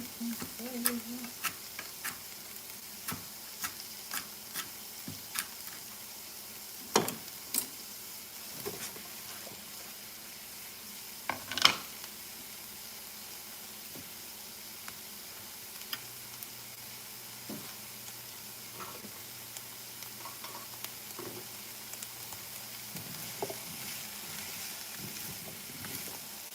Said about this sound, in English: While those are sauteing, collecting flavor.